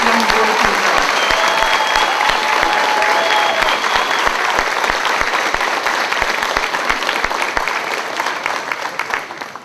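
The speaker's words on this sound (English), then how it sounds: "let's give them a big round of applause." Loud, steady audience applause at a fifth grade school promotion ceremony, dense clapping filling the hall continuously with a few brief voices over it, tapering slightly at the end.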